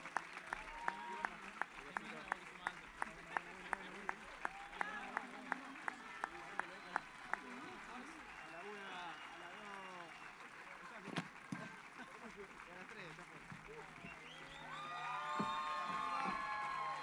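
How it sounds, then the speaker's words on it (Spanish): An audience applauds at a Carricola Jazz Orchestra concert, beginning with sharp, evenly spaced claps that merge into sustained applause and then swell with cheering near the end. "Así que doble aplauso fuerte para Fede Lazzarini"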